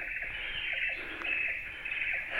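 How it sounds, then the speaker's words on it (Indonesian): Small birds chirp faintly along a mountain hiking trail, scattered short calls over a steady high insect-like hum of the forest, with no one speaking. "Suara burung,"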